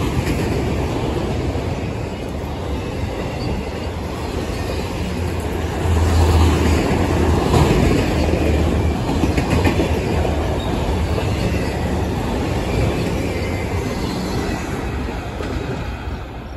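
A freight train, likely CSX M567, rolls steadily past at Lake Avenue, Blasdell, New York, a loud continuous rumble with rhythmic clickety-clack of wheels over rail joints, close by and unbroken.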